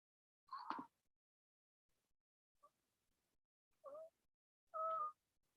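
A cat meows several times, close but fairly soft, in short separate calls with silence between them.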